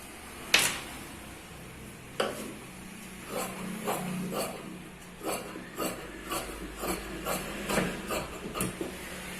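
Scissors cut through saree fabric for an umbrella skirt, a sharp snip followed by a steady run of close, crisp cutting clicks.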